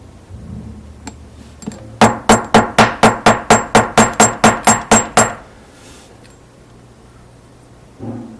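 A hair stacker is tapped down on a hard surface while a Foam Back Humpy fly is being tied, about fourteen quick, evenly spaced metallic knocks in one close, loud run, with quiet handling before and after.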